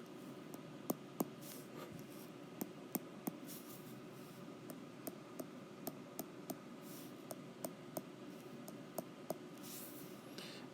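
Marker squeaking and tapping on a board while drawing letters H, a quiet series of short, sharp ticks at an uneven, steady pace, close and with no talking.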